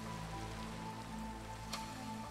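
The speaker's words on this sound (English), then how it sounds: "This is one of those moments that spawn just needs to be appreciated in the rain." Steady rain patters across surfaces in Minecraft, a soft even hiss with scattered drops and a faint tonal hum behind it, with no talking.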